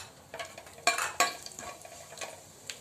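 Mustard seeds and cumin crackle in hot oil in a pan, a faint, close sizzle with a few sharp pops and light spattering, with no talk.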